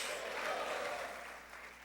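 A church congregation applauds in a steady, faint wash of clapping that fades slightly toward the end, heard from a distance.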